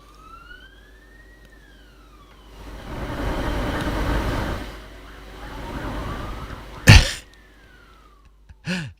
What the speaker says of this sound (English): Just turning up the mic gain flat out here so you can hear the siren going past.